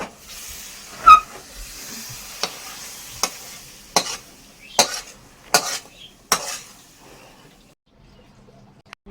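Mango chutney stirred in a pan, a spoon scraping and knocking against the metal in about eight distinct, irregular strokes, close and clear over quiet background.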